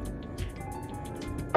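Coconut water for a banana chia seed smoothie pours in a thin stream, a soft liquid trickle with light drips, ending in a brief louder splash or clunk.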